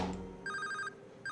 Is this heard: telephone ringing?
yes